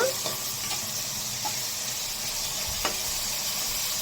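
Onions with a pinch of turmeric cook in a pan for fish curry, making a constant bright sizzle with a few soft stirring clicks, close and alone.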